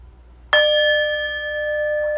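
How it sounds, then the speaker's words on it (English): A single lunar gong is struck once, giving a bright metallic attack that settles into a clear, sustained ringing tone lasting about two seconds in a quiet room. "let's just go ahead and set the tone right now with the lunar gong for this monthly forecast"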